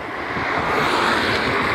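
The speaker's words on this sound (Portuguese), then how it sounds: "Inclusive tá ventando bastante" Strong wind roars steadily across the microphone outdoors, a continuous broad rushing noise with no voices.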